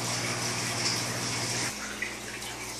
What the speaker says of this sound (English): Just rinsing it in the water that I have stored up in the 5-gallon over there.